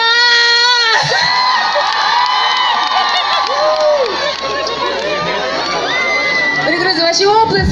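Festival crowd cheering and whooping loudly right after a marriage proposal on an outdoor stage in Kodyma, with children shouting and an announcer's amplified voice carrying over the steady roar.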